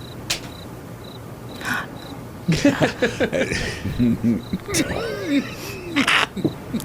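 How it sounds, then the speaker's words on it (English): Cricket chirping sound effect plays as steady, evenly pulsed high chirps, soon joined and partly masked by several people talking and laughing. "The crickets add so much to any bit like this."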